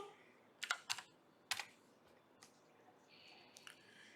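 Typing on a computer keyboard during a stock chart review: a few quick, sharp key clicks in two clusters, fairly faint and close, with quiet gaps between them.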